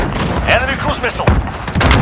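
Cruise missile explosions crash through a Call of Duty: Modern Warfare Domination match on the Grazna Raid map, loud booms and sharp bursts under shouting in-game voices.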